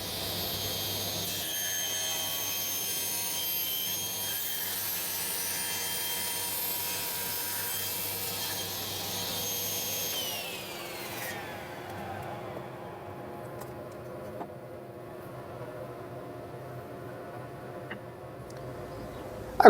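A power saw on a crosscut sled trims the edge of a wooden board, whining steadily as it cuts, then spinning down and falling quiet.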